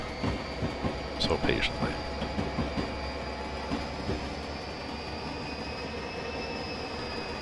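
A simulated New Jersey Transit train running through a rail yard in Train Simulator 2020, steady rumble with a cluster of rhythmic wheel clicks and squeals early on, then a smoother drone, with someone talking briefly over it.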